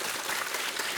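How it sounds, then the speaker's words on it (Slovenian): A quiz show audience applauds, a brief burst of dense clapping filling the moment, moderately loud and without speech. "Čestitke, en aplavz."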